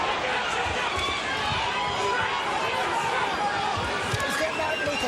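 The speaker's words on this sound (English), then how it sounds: "Crowd loves it." A boxing arena crowd roars and chatters in a steady, dense wash during the Marco Antonio Barrera vs Junior Jones fight, with voices heard throughout the cheering.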